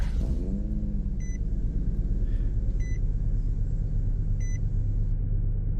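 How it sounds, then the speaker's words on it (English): The Z car in Roblox Greenville idles with a steady, loud low rumble, joined by three faint, evenly spaced electronic beeps, with no voices. "That might just be the ROBLOX car sound"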